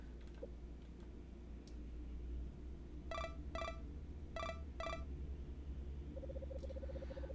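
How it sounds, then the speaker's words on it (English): A phone rings in the video game Anodyne 2 in short electronic pulses, four bursts in two pairs, followed by a softer fast chirping trill, faint over a steady low hum. "I wake up to the noise of my phone ringing."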